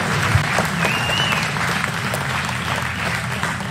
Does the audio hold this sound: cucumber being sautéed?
no